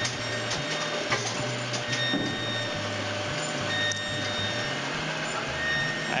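Bowling alley machines running on a movie set, a continuous loud mechanical drone with steady humming and periodic thumping cycles, rhythmic clattering under a constant whirring noise throughout.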